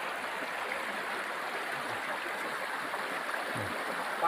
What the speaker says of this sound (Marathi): नदी बघा, तिथून पाणी चालू होतं बघा त्याचं स्टार्ट.